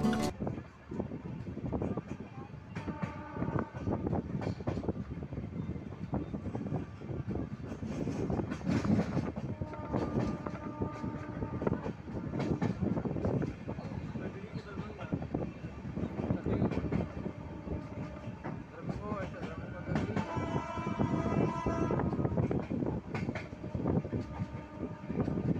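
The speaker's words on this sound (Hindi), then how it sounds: "ये हो रही है एक और ट्रेन के साथ हमारी ट्रेन की क्रॉसिंग।" Mourya Express train running on the rails, passing another train on the adjacent track: a steady loud rumble and clatter with rising rushes of wind, with talk in places.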